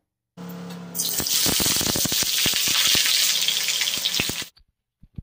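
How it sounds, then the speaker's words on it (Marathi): Onion and capsicum hit hot oil in a wok over a high flame, bursting into a loud, steady sizzle close by that runs for about four seconds and then cuts off, with scattered stirring clicks through it. "फास्ट गॅसवर आपल्याला 2 ते 3 मिनिटाचं कांदा आणि मिरची परतून घ्यायची"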